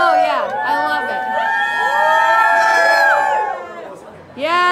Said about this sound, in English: Listen to all those people who cheered just for me.